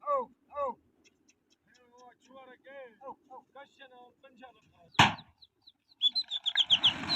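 During a pigeon-flying contest, birds give repeated chirps and calls nearby, and a sudden rush of noise is followed by a quick series of fluttering bursts as the pigeons take off.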